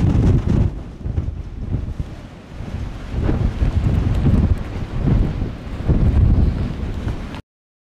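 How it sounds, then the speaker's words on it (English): Strong wind on Mount Rainier buffeting the microphone, loud gusting roar that swells and eases in waves, close and harsh, cutting off abruptly at the end, no voices. "The wind didn't die down at all. If anything, it got worse."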